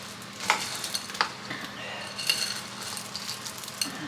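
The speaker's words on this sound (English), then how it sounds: "Okay, so we're going to mix this up." A spoon works through a thick mixture for homemade peanut butter and chocolate bars by hand, giving scraping, clinking strokes against the bowl at an irregular pace, close up with no talking.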